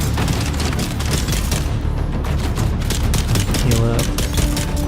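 Rapid gunfire bursts from weapons in the Dune: Awakening video game, loud and dense throughout, mixed with booms and an intense music score.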